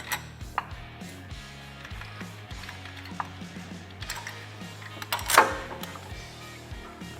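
Bolts clink and scrape as they are pushed through the holes of a transmission plate on a Polaris RZR XP Turbo, a few faint metallic taps and rattles with one louder clank near the end.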